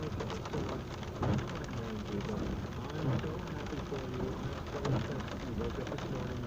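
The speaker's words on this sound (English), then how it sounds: "Now it's stalled out along the coast and just hammering us with rain." Heavy storm rain pours steadily onto surfaces along a coast, a dense continuous wash with a few low rumbles that could be distant thunder, loud and close, with no talking.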